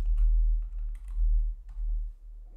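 Soft keyboard typing, a few scattered clicks and taps close by over a low steady hum, with no one speaking.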